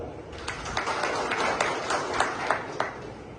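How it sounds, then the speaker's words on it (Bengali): Audience clapping for a proud father at a university event, a steady wash of many hands with scattered sharper claps standing out, moderately loud and without talk. "ওনার উদ্দেশ্যে সবাই একটা তালি দাও"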